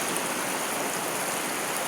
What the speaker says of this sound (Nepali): खोला चाहिँ त्यति ठुलो पनि होइन